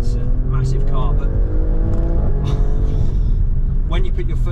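An Alfa Romeo Stelvio Quadrifoglio SUV with 510 horsepower accelerates hard, its engine roaring loud and close with rising pitch sweeps beneath someone talking over it.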